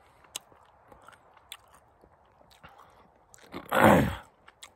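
Someone chewing a spicy chili-flavored eel snack on a trail hike: quiet sporadic mouth clicks, then one louder, drawn-out crunching bite close to the mic.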